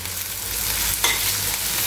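Curry leaves drop into a pan of onions fried to a pinkish golden colour for a spiced cauliflower and pea curry, giving a steady close sizzle with stirring scrapes and a brief louder crackle near the middle.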